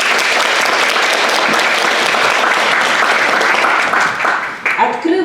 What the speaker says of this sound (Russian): аплодисментами поддержать наших участников